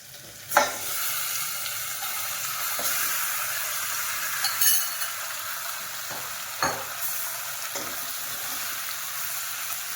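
Mutton and onions fry in oil with a continuous close sizzle and hiss, broken by a few sharp clanks of stirring against the pan. No one speaks.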